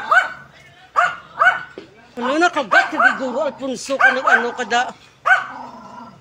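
Several dogs bark, yip and growl close by in a residential subdivision where a large python was caught, in overlapping bursts with a few short pauses, while people talk in French over the noise.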